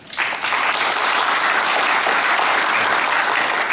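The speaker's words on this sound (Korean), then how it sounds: "소개하지 못하는 거 박수로서 환영하겠습니다. 박수 감사합니다." Dense, steady applause from an audience at a joint memorial ceremony honouring Korean patriotic martyrs and independence fighters. It rises quickly and holds loud and close throughout.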